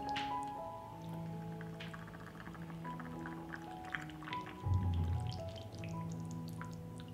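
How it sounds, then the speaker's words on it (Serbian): Water poured into glass jars sets off a quiet, ringing trickle with faint tonal resonance, then a brief louder gush partway through, heard close and without talk. "Napunit ću tegle sa vodom."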